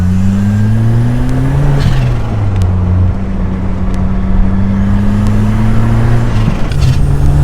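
Turbocharged Ford Ka driving on the road at a steady 40 mph, a loud continuous engine drone with shifting pitch and road noise filling the cabin.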